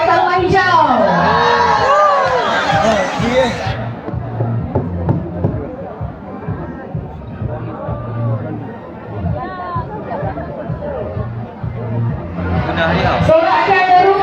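Spectators at a school sports meet cheer and shout loudly for the yellow house during a 1500m race, with bursts of crowd roar at the start and end and a steady hubbub and chatter in between.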